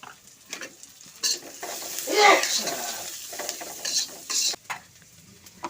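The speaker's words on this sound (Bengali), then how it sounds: "পেঁয়াজটা অল্প ভাজা হয়ে গেছে এখন একটু হলুদ দিয়ে দিচ্ছি পেঁয়াজে হলুদের গুঁড়া" Chopped onions fry with turmeric powder in a pan for lentil dal, a soft sizzle broken by several close scraping stirs of a spatula, the loudest burst midway.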